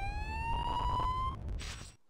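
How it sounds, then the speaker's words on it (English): Siren wailing in the Spider-Man 2 video game, an ambulance coming: rising electronic tones sound steadily for about a second and a half, then cut off into a brief burst of noise. "It sounds like an ambulance is coming."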